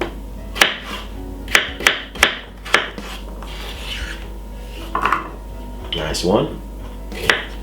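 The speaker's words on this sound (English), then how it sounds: "3 medium-sized potato, and I'm cutting them very small" Knife cutting three medium potatoes into small pieces for Jamaican pigtail stew peas: a series of sharp taps at an irregular rhythm, close and fairly loud, with scraping and a brief spoken comment near the end.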